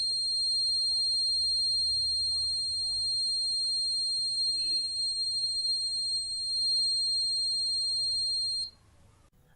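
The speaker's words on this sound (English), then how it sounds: "So now when I switch on the trigger or on the push to on switch, you will get the buzzer sound for 10 seconds." An electronic buzzer in a monostable multivibrator circuit, triggered by a push-to-on switch, emits a steady, piercing high-pitched tone that holds for about nine seconds before cutting off abruptly.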